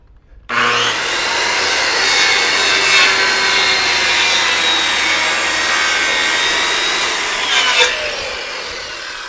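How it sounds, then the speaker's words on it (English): Hand saw cutting a dovetail into a wooden floor joist, steady back-and-forth strokes close up and loud, running continuously for several seconds before stopping. "let's cut the dovetail."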